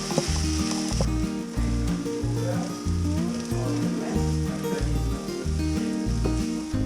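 Sausages and eggs sizzle and crackle steadily in a frying pan in a rented room in Trondheim, a continuous close hiss with some clinks, partly masked by a loud rhythmic bass-heavy music track.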